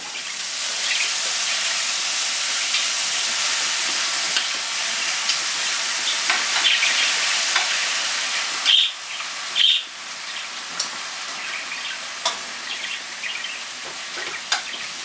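Pasta tossed into a hot pan with asparagus for quail egg carbonara, a continuous close sizzle and frying hiss with occasional clinks and scrapes of stirring, no voices.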